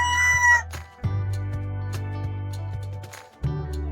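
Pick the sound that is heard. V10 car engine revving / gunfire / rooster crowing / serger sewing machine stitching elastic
rooster crowing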